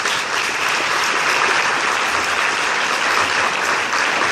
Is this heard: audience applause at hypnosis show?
yes